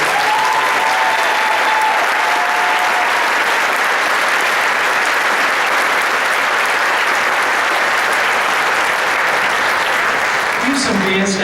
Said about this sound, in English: Liam Yoakum, Brianna Saul, and Nikki Henning a round of applause?